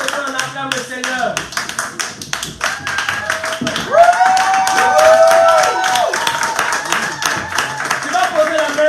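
A church congregation claps together to acclaim the Lord: loud, steady, rhythmic clapping from a crowd, mixed with voices and sustained singing or a held tone.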